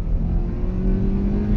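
A 15-year-old Honda Accord pulls hard in first gear, its engine note climbing steadily in a close, loud, continuous drone.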